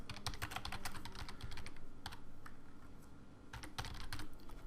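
Rapid typing on a computer keyboard while entering HTML code, a continuous run of crisp key clicks with brief pauses, close and clear with no talk.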